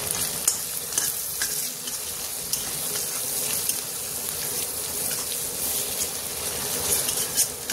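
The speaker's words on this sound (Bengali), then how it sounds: "তো এখানে মশলা পুরো ভাজা হয়ে গেছে" Ground cumin, coriander and Kashmiri chili frying in ghee for palak dal crackle and sizzle steadily up close, with occasional stirring scrapes over a constant hiss.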